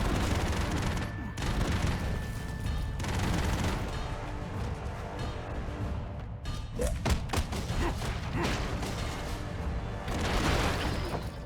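Rapid gunfire and heavy cannon blasts from the Broforce video game, a dense barrage of thumps and booms with bursts of automatic fire and short gaps, loud throughout.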